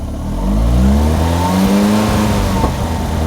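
A Lotus Esprit engine revs steadily up to about 2,500 RPM and holds there, a loud, close, continuous mechanical drone with no talking.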